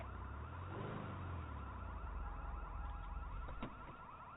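A car alarm in a video game wails in a repeating electronic pattern over a steady background rumble, moderately loud and somewhat distant, with no voices.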